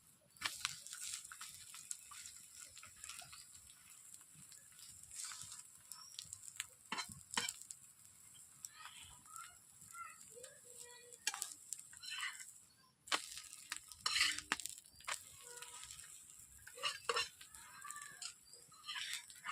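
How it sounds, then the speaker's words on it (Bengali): Egg paratha frying in oil on a tawa, a soft, continuous sizzle broken by scrapes and sharp clicks of stirring and turning, with faint birdsong behind it. "ডিম পরোটাকে আমি একটু লালচে করে ভেজে নেব বন্ধুরা।"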